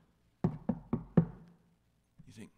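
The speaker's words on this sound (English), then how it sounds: "You think you go up to knock on a door and you do this." Four firm, evenly spaced knocks, as if on a door, sound close and clear, followed by a short pause and a faint brief rustle. No one talks.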